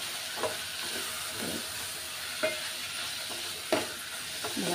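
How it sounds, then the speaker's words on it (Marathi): Dhaba-style bhogi bhaji sizzles steadily in a pan while a spoon stirs and scrapes through it now and then, with a few sharper clinks over the constant frying hiss. "आता हे सर्व मिक्स करून घेऊया."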